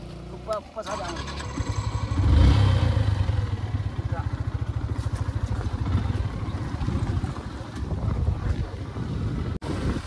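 A motorcycle carries riders along a muddy, waterlogged mountain trail in Thabang, Rolpa, its steady close engine drone buffeted by heavy wind noise, with voices talking over it.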